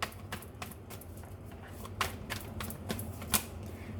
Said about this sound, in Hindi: बट शफल कर लेते हैं पहले